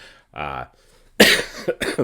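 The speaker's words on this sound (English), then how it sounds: "I still have a bit of a cough" A single harsh cough from a person with a lingering illness rings out close to the microphone, followed by the person starting to speak.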